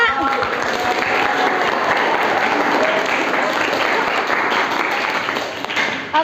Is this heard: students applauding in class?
yes